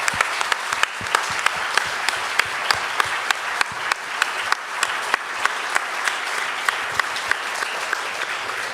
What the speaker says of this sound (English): please, a round of applause for the crew